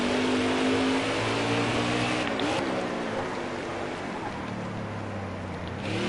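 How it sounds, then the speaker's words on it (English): Race car engines from the NASCAR Heat 4 video game at the Toyota/Save Mart 350, a steady sustained roar with a strong tone that dips slightly in pitch midway, running continuously with no talk. "Can kind of sense and hear that we're catching up to some lap cars here."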